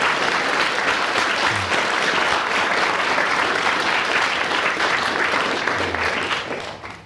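A studio audience gives loud, sustained applause that fills the room evenly, then begins to fade near the end.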